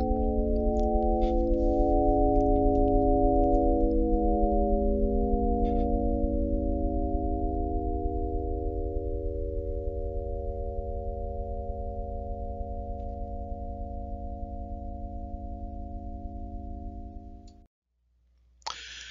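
Several steady, humming synthetic tones overlap and slowly shift in pitch, droning evenly for about seventeen seconds before cutting off abruptly: a simulated airship lifted by seven large vibrating bells on its roof, with propellers, flying overhead.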